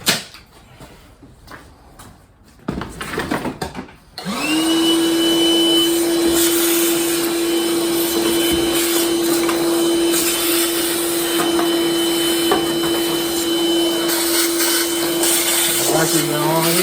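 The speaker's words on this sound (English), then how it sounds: "So let me get the vacuum cleaner." A vacuum cleaner clicks on after a few seconds of handling noises, then whines loudly and steadily while pulling dirt out of a Dyna Glow CT1100 kerosene heater, its pitch dipping briefly near the end.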